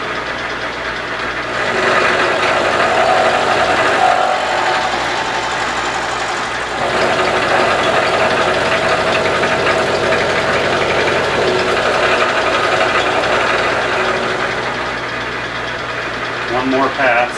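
A bandsaw cuts metal for a quick-change tool post T-nut, a steady broadband whine and rasp that holds loud and continuous throughout with a brief dip midway.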